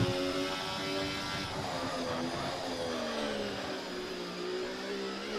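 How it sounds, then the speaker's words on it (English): Ferrari race car engine in a Bahrain racing video game screams at high revs, a steady loud whine with gear shifts and a falling pitch midway, continuous throughout with no talk. "muscling his Ferrari through into the second sector"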